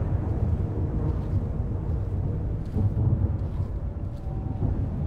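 Low rumbling thunder rolls through a stormy night in Amnesia: Rebirth, a steady heavy drone with swelling peaks and a faint wind-like hiss, with no voices over it.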